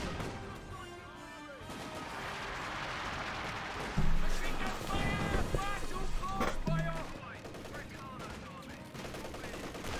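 Machine gun bursts from an MG-34 in Company of Heroes 2, rattling amid dense battle noise with other gunfire, explosions and commentary talk over it.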